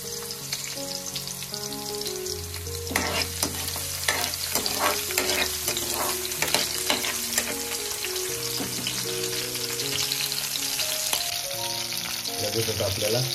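Crushed garlic and green chillies frying in hot oil, a continuous loud sizzle with bursts of crackling and a few stirring clatters, close by.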